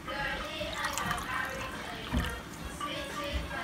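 Water is poured into a ponche crème mixture with soft trickling and dripping, close and quiet, with some faint background voice.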